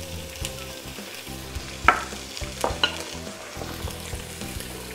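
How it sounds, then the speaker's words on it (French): Crushed garlic, onion and chopped chili frying in olive oil for rougail saucisse, a steady close sizzle with a few sharp crackles and utensil scrapes across the pan, no voices. "ainsi que l'ail écrasé à revenir dans l'huile d'olive"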